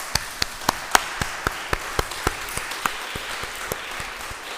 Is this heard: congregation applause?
yes